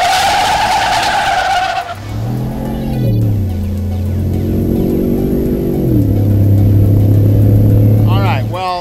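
Ford F-150 pickup truck on a drag strip, its engine loud and close as it revs and pulls through rising and falling gear changes, with tire noise, and voices talking over it at the start.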